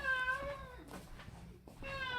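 A cat meows twice close by, a drawn-out cry at the start and another at the end, with soft background noise between and no speech.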